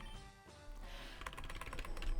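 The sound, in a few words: fast typing on a computer keyboard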